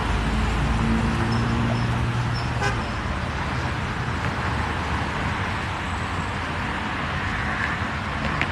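Passing cars on a roadside toot their horns in short honks amid a steady wash of loud traffic noise, with a faint voice now and then.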